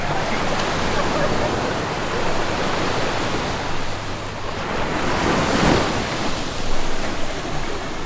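Loud ocean surf rushes and crashes continuously at the La Jolla, California oceanfront, a broad roar of breaking waves swelling midway, mixed with wind across the microphone.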